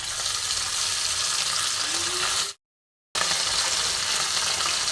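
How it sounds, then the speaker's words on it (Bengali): Parshe fish fry in oil left over from frying eggplant, producing a loud, dense and constant sizzle close by that briefly cuts to silence before resuming. "বেগুন ভাজার তেলেতেই আমি মাছগুলো ভেজে নিচ্ছি"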